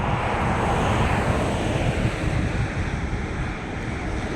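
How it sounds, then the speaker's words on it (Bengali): Wind gusting across a lit road at night outside Qatar Mall, a steady, loud broadband rush that buffets the microphone without a break, with no voices. "একটু বাতাস আছে, ঠান্ডা আছে।"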